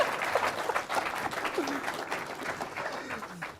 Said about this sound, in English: let's go ahead and keep cheering, my friend